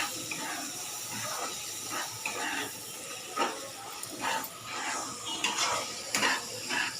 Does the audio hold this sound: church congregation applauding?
no